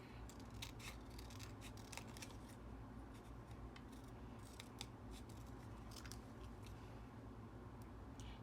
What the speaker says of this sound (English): we glued down our cardstock, and just need to cut around it